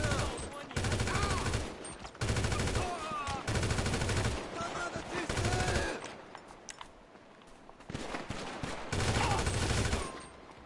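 Rapid bursts of gunfire in the video game GTA V, several dense volleys of automatic shots separated by short pauses, loud and close, with a quieter stretch of lighter pops midway.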